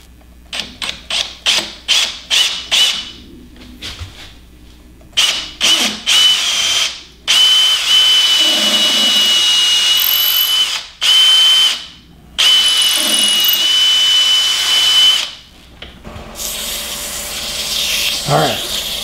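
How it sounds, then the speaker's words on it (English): A drill on a wood lathe bores a hole through a wooden kendama toy, whirring in a series of short bursts, then longer sustained runs with a high whine, stopping and starting repeatedly up close. "I'm going to fine center again and drill my hole down through it"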